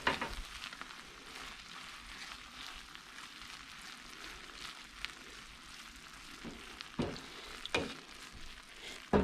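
Mexican rice sizzles and fries in a pan while a spoon stirs through it, a steady soft crackle with occasional scraping taps, fairly faint and with no talking.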